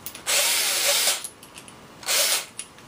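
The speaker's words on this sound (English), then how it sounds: "I want to make sure it's going to work out right before I drill all the rest of the holes." A power drill drilling holes for a homemade H-quadcopter whirs in two short bursts of about a second each, separated by a brief pause with small clicks, close and loud.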